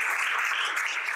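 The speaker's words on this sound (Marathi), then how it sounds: "एकदा त्या चौथीतल्या मुलाच्या या ब्रेव्हरीसाठी आपण जोरदार टाळ्या देऊ." Steady applause from a seated audience at a talk session, dense clapping held at an even level throughout without a break.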